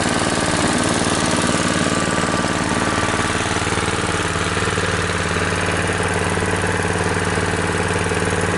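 A small pump engine runs after starting on the first pull with no choke, droning loud and steady up close with a rough, buzzing idle throughout.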